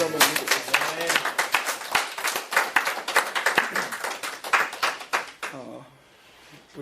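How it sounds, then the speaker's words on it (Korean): A church congregation bursts into rhythmic clapping in praise, a dense run of loud, fast hand claps lasting several seconds before tapering off into quiet near the end. "찬양 받을 주님 앞에 박수로 한번 드리겠습니다."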